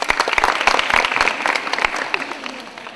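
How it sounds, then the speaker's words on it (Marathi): An audience at a college quiz event in Satara claps loudly for a correct answer. The dense, close applause with sharp individual claps fades slightly toward the end, with faint voices underneath. "जोरदार टाळ्या त्यांच्यासाठी"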